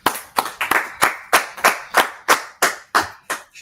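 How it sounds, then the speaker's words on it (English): A class claps its hands in a steady rhythm of about a dozen sharp, evenly spaced claps, close and clear with no talking. "go ahead and clap it up."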